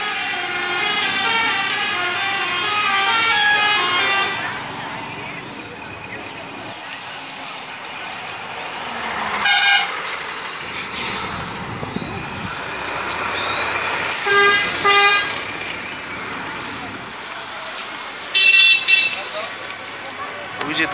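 Near a harbour with buses and launches about, vehicle horns and siren-like tones sound in loud bursts amid traffic noise, with people talking throughout.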